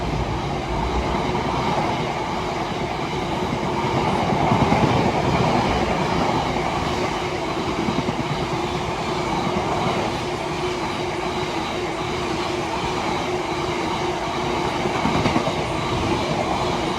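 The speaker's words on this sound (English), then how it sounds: "Train now zooming past is a freight locomotive." A freight locomotive hauling wagons rolls past a railway station at Rainhill, a loud, sustained rumble with rhythmic clickety-clack of wheels over rail joints and occasional metallic squeal, close and continuous throughout.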